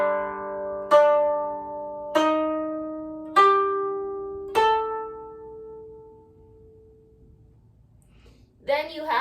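Koto, a Japanese zither, with four separate plucked notes, each ringing out and decaying over a couple of seconds, followed by a brief scooping stroke near the end. The instrument plays alone, with no voices.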